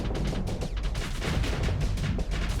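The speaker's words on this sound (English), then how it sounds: "So the ion cannon's already firing, and now here's the pulsar firing." Ion cannon and pulsar weapons fire together in a Starsector space battle, a dense, continuous barrage of rapid crackling energy shots with heavy low rumble, loud and steady with no pause.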